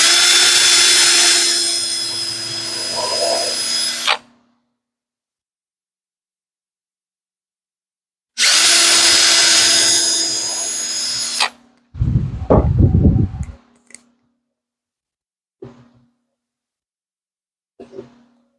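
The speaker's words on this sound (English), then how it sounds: "Now I'm going to drill my pilot holes." A power drill whines at high speed while drilling pilot holes in wood boards, two sustained bursts of several seconds each separated by silence, followed by clunks and handling noises.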